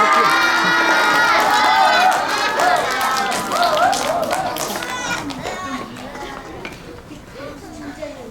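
Children in an elementary school audience clap and cheer loudly for a third-grade speaker, shouts and voices over scattered clapping that gradually fade over about eight seconds.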